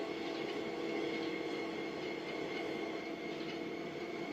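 A diesel locomotive, an SD40, rumbles steadily in the Train Sim World 2 video game, a continuous engine drone with a faint hiss and no break, carrying on alone without any talk.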